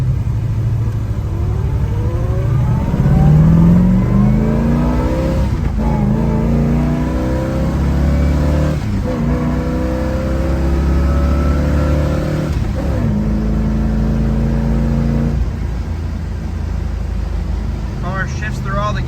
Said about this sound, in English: Car shifts through all the gears right